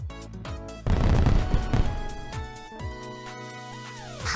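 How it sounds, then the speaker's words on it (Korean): Firecrackers go off outside in the Trickcal Revive video game, a burst of sharp cracks and booms followed by fainter pops over a musical game soundtrack. "바깥에 무슨 폭죽 같은 걸 터뜨리잖아"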